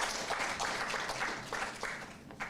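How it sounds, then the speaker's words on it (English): An audience at a forum applauds the speakers, steady clapping at moderate distance that swells and sustains in rhythmic waves throughout. "let's have a round of applause for all speakers first"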